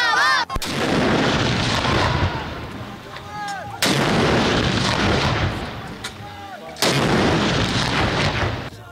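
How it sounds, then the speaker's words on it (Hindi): Cannon salute at a Pakistani Independence Day ceremony, three deep booming blasts spaced a few seconds apart, each followed by a long rumbling echo, with faint crowd noise between. "दिन का आगाज वफाकी दारुल हुकूमत में 31 और सूबाई दारुल हुकूमतों में 21 तोपों की सलामी से हुआ"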